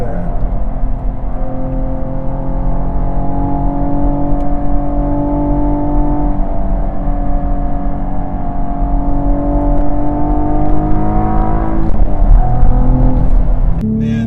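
Cadillac ATS-V engine drones steadily while driving, its harmonic tones slowly climbing through the mid-range before a shift near the end, loud and close inside the car.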